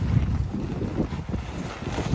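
Strong, cold wind blows steadily across an open outdoor site, a dense low rumble of gusts and microphone buffeting that fills the whole stretch with no clear pauses.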